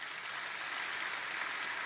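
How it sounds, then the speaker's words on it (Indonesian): A church congregation claps loudly and steadily, a dense, continuous wash of applause filling the space with no voices rising above it. "Yang setuju tepuk tangan yang keras."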